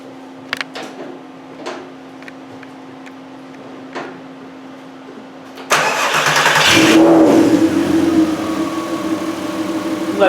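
A 2004 Volkswagen Golf R32 with cam and crank sensor correlation faults sits in a quiet workshop, then cranks and catches, revving briefly before settling into a steady, close idle.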